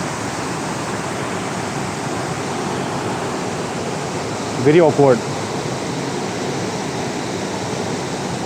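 A waterfall at Kudengrim roars as a steady, broad rush of falling water that holds the whole way through. A voice briefly speaks over it about midway.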